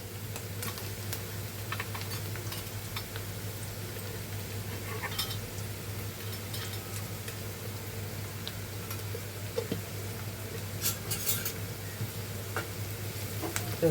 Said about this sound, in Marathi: तर बघा आपला कांदा शिजलाय. आता ह्याच्यात आपले मसाले टाकूया.